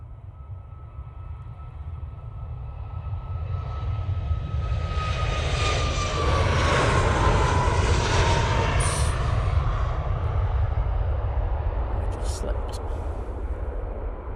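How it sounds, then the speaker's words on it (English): A TUI jet takes off from Manchester Airport on a frosty morning, a deep rumbling roar building to a peak mid-clip with a falling engine whine, then a sustained fading rumble, with brief rattles near the end. "This is the TUI going to Reykjavik."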